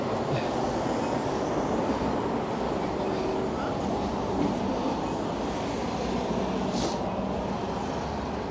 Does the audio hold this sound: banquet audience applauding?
no